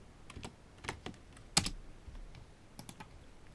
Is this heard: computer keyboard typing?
yes